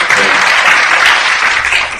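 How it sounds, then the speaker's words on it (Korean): A dense burst of loud audience clapping at a Korean political forum, steady and full throughout the short stretch with no talk over it. "응원의 박수 부탁드립니다"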